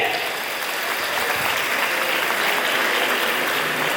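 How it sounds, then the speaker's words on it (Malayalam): Steady applause from a classroom audience clapping for a student at a higher secondary school counselling class, dense and continuous throughout at a fairly even level. "കൈയടിച്ചേ"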